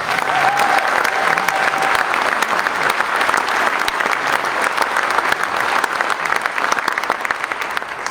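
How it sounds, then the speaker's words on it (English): Audience at a community meeting about a wildfire applauding, dense sustained clapping from a crowd filling the room at steady loudness for the whole stretch, with no voices standing out. "So how about a clap for everybody else?"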